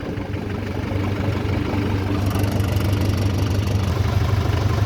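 A tractor pulling a cross harrow through a field gives off a steady low engine drone, close and even. It swells slightly after the first second and then holds a constant working rumble.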